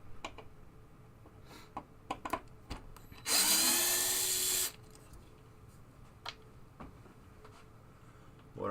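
A power drill whirs for about a second and a half, backing screws out of a Williams Travel Time pinball playfield, a loud steady burst between faint clicks and handling taps.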